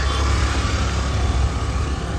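Car engines in dense, slow road traffic on the way to Bhimashankar make a loud, constant close-up roar and rumble with no pauses.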